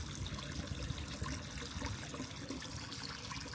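A small spring water spout at a tiny shrine near Narita trickles in a faint, steady, continuous flow, heard at close range with a soft outdoor background hiss and no one speaking.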